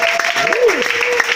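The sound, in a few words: congregation applauding in acclamation at church service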